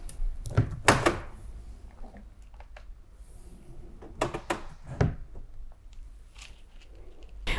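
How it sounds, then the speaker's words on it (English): Two drawers in a modern wall-system TV base are pushed to open, giving a few soft thumps and light clicks in short clusters, close by in a quiet room. "The TV base also consists of two drawers, which open easily with push-pull opening."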